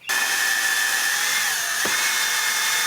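A power drill turning an engine valve to lap it in a Mach 1 Mustang engine rebuild whirs loudly and steadily at close range, its motor holding a continuous high pitch with a brief dip near the end.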